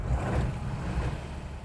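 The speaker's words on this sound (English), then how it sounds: "This particular engine has a different sound. It's definitely more vintage." A 1940 Ford Deluxe Coupe's vintage engine idles in a steady, low rumble, running close and fairly loud throughout.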